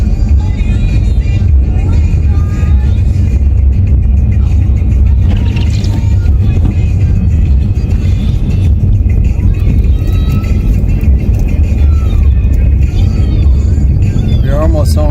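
A car slides on a slippery winter road, its steady loud low rumble of engine and tire noise continuous throughout, with people talking over it now and then.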